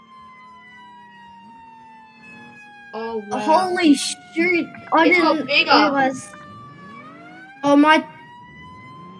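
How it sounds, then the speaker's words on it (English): A video game fire truck siren wails steadily with slowly falling tones while several people talk excitedly over it, in Roblox. "Should we turn off our sirens?"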